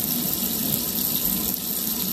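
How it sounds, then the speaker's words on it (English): A tap runs steadily as water fills a vase, a constant close hiss and splash with no pauses and no voices. "I'm gonna put some more water in this vase right here."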